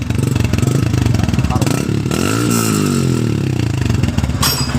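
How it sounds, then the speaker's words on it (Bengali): Yamaha FZS V2 motorcycle with a modified exhaust revving up close, a loud throbbing idle rising into a sweeping rev and settling back, with a brief voice partly under the engine. "এই হচ্ছে ডিবি কিলার লাগানোর পরে সাউন্ড।"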